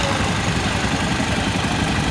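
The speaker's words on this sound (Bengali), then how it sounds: "দেখো বিয়ের গাড়িটা যাচ্ছে" A wedding car passes on a roadside near a riverbank picnic spot, its engine a steady, close mid-to-low rumble with constant vibration and no pauses or voices.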